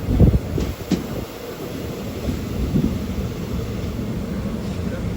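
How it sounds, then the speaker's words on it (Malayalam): A passenger train pulls into Murikkumpuzha railway station in Kerala with a low, heavy rumble and a few knocks and clanks, heard up close against steady platform noise. "മുരിക്കുംപുഴ റെയിൽവേ സ്റ്റേഷനിലേക്ക് ഇതാ നമ്മുടെ ട്രെയിൻ എത്തിക്കൊണ്ടിരിക്കുകയാണ്"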